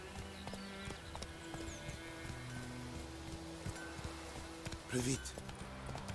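A horse trots along in The Witcher 3 video game, its hooves clip-clopping at a moderate pace under ambient game sound and brief speech, with a louder burst partway through.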